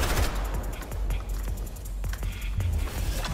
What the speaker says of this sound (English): Deadpool, what are you shooting at, my guy?